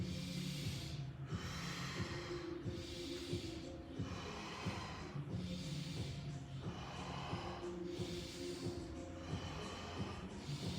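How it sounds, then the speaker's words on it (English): Deep rhythmic breaths during seated cat-cow yoga, slow inhales and exhales alternating in a steady cycle of about ten repetitions, close and fairly quiet, with no talking. "push my spine forward into extension, take a big inhale, push it back, exhale"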